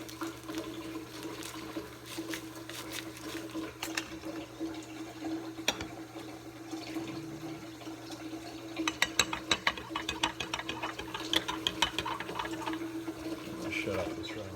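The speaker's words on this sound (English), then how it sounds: "Shut off this running water here." Water runs steadily from a tap during an elephant toothpaste chemistry demonstration, a faint continuous hiss with clicks and handling noises, and a voice talks over it.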